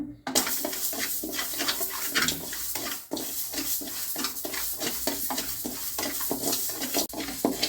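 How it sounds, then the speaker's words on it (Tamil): Parboiled rice dry-roasting in a pan for homemade kuzhambu chilli powder gives a dense, continuous crackle and rustle, with repeated scraping stirs close by and a faint voice underneath. "நல்லா பொரிய அரிசி மாதிரி பொரியட்டும்"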